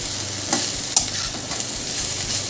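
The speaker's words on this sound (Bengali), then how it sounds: "এবার চিচিঙ্গা রসুন পেঁয়াজ আদার সাথে ভালো করে মিক্স করতে থাকবো।" Ridge gourd being stirred in a pan with garlic, onion and ginger, with steady sizzling and a couple of sharp spatula scrapes against the metal.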